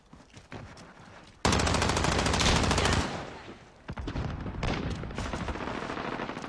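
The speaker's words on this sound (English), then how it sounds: "Guns blazing." Call of Duty match on the Alcatraz map with rapid automatic gunfire, a loud sustained burst of bullets, then quieter shots and a second stretch of firing; game sounds fill the clip with no voices over it.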